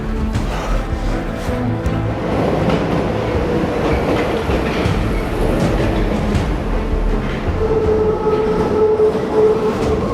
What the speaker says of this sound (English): Trains pass through here all the time